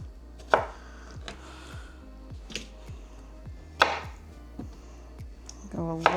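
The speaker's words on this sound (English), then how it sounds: "I am gonna chop up all the tomatoes though" A knife chops tomatoes on a cutting board in a run of close, separate thuds at an uneven, unhurried pace, some louder than others, with a faster cluster at the end.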